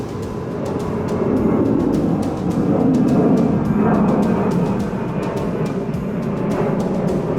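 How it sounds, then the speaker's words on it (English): A broad, steady roar of a plane passes overhead above a forest restoration site in Kenya, rising and holding for several seconds with faint clicking noises throughout. "it's been recording plane sounds"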